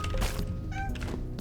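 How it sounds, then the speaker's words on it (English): A cat meows close by, a short tonal call in the middle of the clip, set against thumps and background noise. "Cat's meowing at me."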